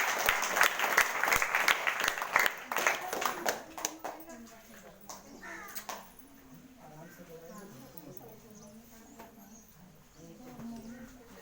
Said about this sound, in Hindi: इससे जोरदार ताली से प्रभु का धन्यवाद